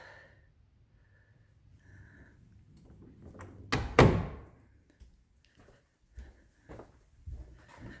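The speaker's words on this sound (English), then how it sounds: "This is a prop for a door." A well-used wooden stage prop door for plays, swung open and shut once with a loud thunk partway through, followed by a few softer knocks and creaks in an otherwise quiet room.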